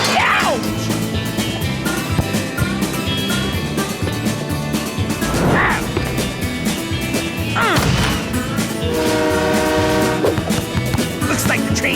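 A cartoon train rushes past during a kids' soccer cartoon episode, loud and continuous with horn-like toots and clattering, layered under music and excited animated voices.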